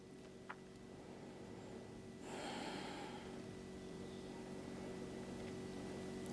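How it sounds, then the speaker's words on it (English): A single deep exhale through the mouth during a yoga session, a soft breathy rush that begins partway in and fades slowly over a few seconds, heard close against quiet background. "release and exhale through the mouth"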